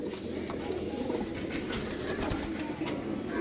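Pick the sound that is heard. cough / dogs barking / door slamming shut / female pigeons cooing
female pigeons cooing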